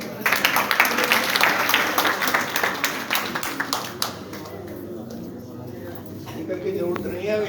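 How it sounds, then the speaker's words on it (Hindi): An audience at a talk in Kichha, Uttarakhand claps loudly for a few seconds, then the applause thins out and fades while someone speaks over it. "जोरदार ताली के लिए"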